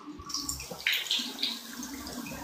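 Shower water runs steadily in a bathroom, a close, continuous hiss with splashing spatters over the top.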